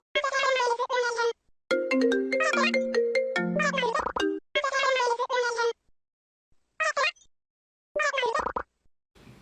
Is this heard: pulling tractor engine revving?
no